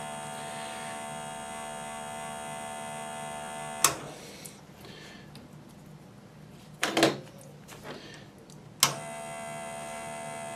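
A JGY-370 geared motor runs at 4.4 volts with a steady, close electric whine and hum, broken by a few sharp clicks and knocks as it turns.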